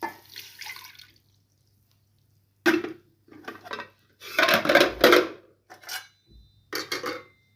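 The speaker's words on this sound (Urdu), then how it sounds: "پانی میں اس میں ڈال رہی ہوں ہاف باؤل۔" Half a bowl of water poured into grated bottle gourd in a cooking pot, heard as several short, splashy bursts separated by brief pauses, close and moderately loud.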